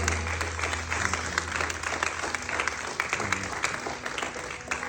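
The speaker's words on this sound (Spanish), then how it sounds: "Si lo va a aplaudir, apláudalo con fuerza." A church congregation at a revival service on Long Island applauds loudly, with thick, continuous clapping held at an even level throughout and a low steady hum underneath.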